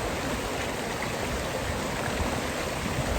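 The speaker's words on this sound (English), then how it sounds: "I'm just here, enjoying the nature sounds, the water." Water rushes steadily at Cooper Canyon Falls, a dense, unbroken roar that fills the whole clip. It sounds close and fairly loud, with no voices.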